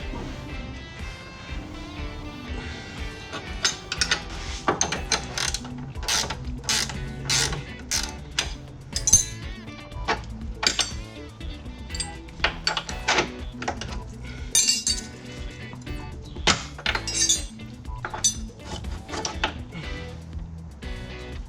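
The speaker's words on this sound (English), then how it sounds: "so we have to use wrenches on it" Wrenches work the suspension bolts on a Porsche 911 996 lower control arm, giving steady ratcheting clicks, metallic clinks and creaks in a busy, close mechanical rhythm.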